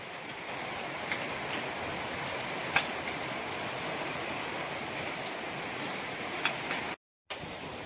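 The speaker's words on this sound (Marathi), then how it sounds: "हे बघा किती पाऊस" Heavy rain pours down in a dense, steady hiss with occasional louder drops, then cuts out briefly just before the end.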